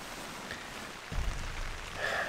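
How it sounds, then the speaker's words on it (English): Rain falls steadily on an MSR Hubba Hubba NX 2 tent at a rainy campsite. It makes a soft, even patter that stays faint and close, with no talking. "And the rain is coming down."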